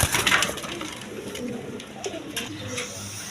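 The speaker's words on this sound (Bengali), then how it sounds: "ডিম বাচ্চা করানো কবুতর দেখেন" Domestic breeding pigeons cooing softly nearby, a short run of low throaty coos with light rustling and no voices.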